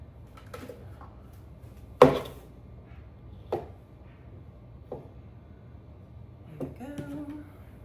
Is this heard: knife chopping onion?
yes